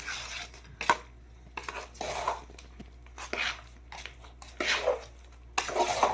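Jaggery being mixed with crushed cardamom in a metal vessel, heard as a series of scraping, clinking stirs and knocks in irregular bursts, close and fairly loud, with no talk.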